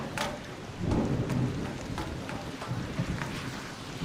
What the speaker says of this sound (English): with all the thunder and lightning